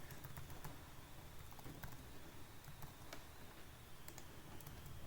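Someone types PHP code on a computer keyboard: a steady stream of soft, fast keystrokes close by, with occasional louder clicks over constant background noise and no talking.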